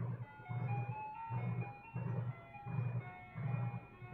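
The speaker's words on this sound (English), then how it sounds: "The song playing on a pair of shitty speakers. The kind you'd hear on top of an old-timey ice cream truck." Tinny ice cream truck jingle played through cheap, distorted speakers, a repeating melodic tune over a pulsing low rhythmic thump, heard steadily and moderately loud.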